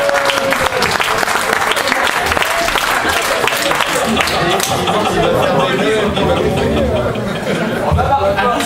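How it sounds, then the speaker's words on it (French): A crowd applauds loudly at a stage show in Niort, thick continuous clapping mixed with cheering and lively chatter throughout. "Alors on peut les applaudir bien fort, forcément tous les deux"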